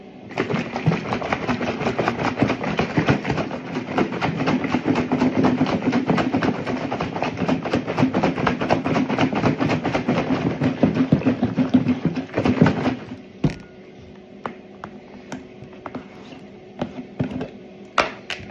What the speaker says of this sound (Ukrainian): закриваємо наш лоток